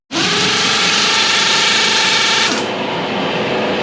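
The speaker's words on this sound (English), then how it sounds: "we can get the 1/2 inch air gun in there because you can't get a battery gun in" A 1/2 inch pneumatic air impact gun rattles loud and continuous against a pulley bolt. A dense hammering whir runs for about two and a half seconds, then drops to a lower, steadier hiss as the bolt comes free.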